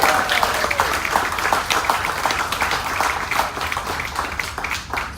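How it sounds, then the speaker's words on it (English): An audience applauds a comedian on the Princess Ruby, steady clapping that fills the room with bright, dense claps and no talk. "Give him a round of applause."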